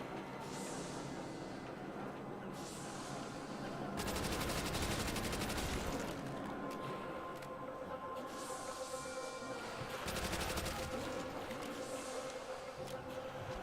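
Gunfire from the Nacht der Untoten zombies mode of a video game, two separate bursts of rapid automatic shots against a steady hum of game ambience, fairly quiet overall.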